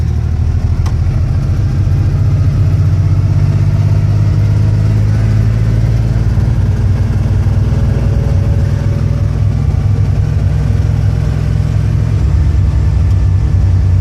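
A manual stick-shift car pulls away as the clutch is let out and gas applied, its engine a loud, steady low drone that builds slightly while the vehicle starts rolling, heard close from inside with no voices.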